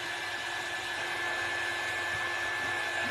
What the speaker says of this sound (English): it's a nice little heat tool for small little projects